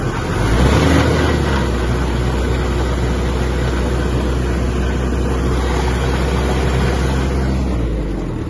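A Kubota X-20 mini tractor engine held at full throttle, a loud, steady, close drone that holds without pause, with the power take-off shaft engaged in third speed.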